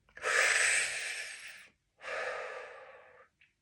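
Two long, audible breaths from a guided nose-in, mouth-out breathing exercise for stress and emotional release, each a loud airy rush lasting over a second with a pause between and a short third breath at the end.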